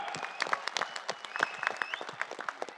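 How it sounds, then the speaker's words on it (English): A small audience gives a light, scattered round of applause for a newly promoted black belt, with uneven individual claps rather than a dense roar. "Round of applause for this guy."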